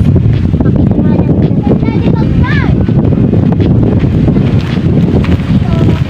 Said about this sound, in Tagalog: Sobrang sarap ang hangin guys